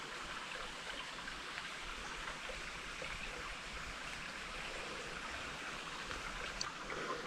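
River water streams steadily past a gold-prospecting sluice being lifted out, a continuous broad rushing wash with no pauses, close and fairly even throughout, with no voices over it.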